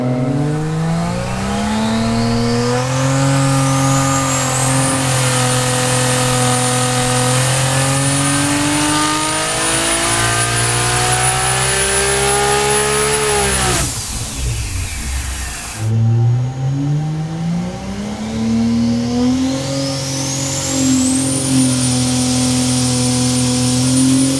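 A Dart 2JZ engine on a dyno at 30 psi of boost screams up through a long, rising rev to around 8,400 rpm, drops sharply, then climbs again, very loud and close, with turbo whine over the roar.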